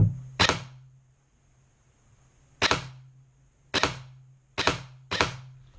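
An Ares Amoeba CCR airsoft rifle fires five single semi-automatic shots. The sharp, close snaps are spaced one to two seconds apart, and each is followed by a short low mechanical hum.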